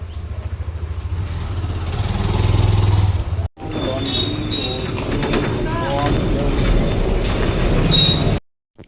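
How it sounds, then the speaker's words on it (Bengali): A motorcycle ridden on a road while commuting to a duty shift, with a steady engine and road rumble near the microphone throughout, a brief cutout midway, and some faint background sounds. "বাইক নিয়ে যাবো।"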